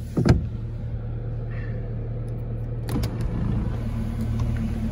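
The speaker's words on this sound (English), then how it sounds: "One touch automatic sunroof." A one-touch automatic sunroof motor in a 2019 Chevrolet Camaro ZL1 runs as a steady low electric hum inside the cabin, with a sharp click at the start and another partway through.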